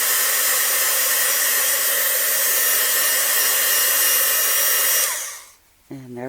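Heat gun blowing hot air over glittery craft snowflakes, a loud steady whooshing roar held close for about five seconds before it is switched off and winds down.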